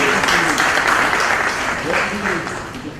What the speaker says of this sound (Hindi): आप सब करतल ध्वनि से इस क्षण का आप गौरव तालियों के माध्यम से करेंगे